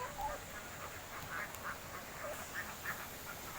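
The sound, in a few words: ducks in a laying pen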